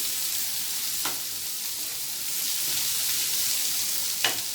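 Food being stirred in a frying pan while cooking a potato vegetable dish, with a steady sizzle of frying throughout and a couple of brief scraping clicks from the utensil.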